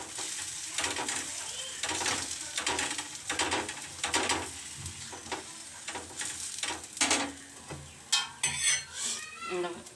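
Roti frying with oil on a hot pan, a steady sizzle broken by repeated scraping and clinking strokes of a spatula against the metal, close and fairly loud with no voices.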